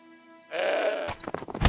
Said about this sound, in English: You'll be able to distract the goat with figs before moving him away